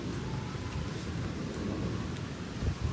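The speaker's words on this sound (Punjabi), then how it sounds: "ਬਹੁਤ ਜ਼ਿਆਦਾ ਹੀ ਮੀਂਹ ਆ ਗਿਆ ਇੱਕੇ ਦਮ ਆ ਗਿਆ" Heavy rain pours down continuously during a storm with hail and strong wind, with deep rumbling thunder rolling underneath, dense and steady throughout.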